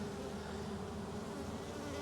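Honey bees roar inside an opened hive in Jacksonville, Florida, a dense, continuous buzzing hum that holds steady and close throughout, with no voices.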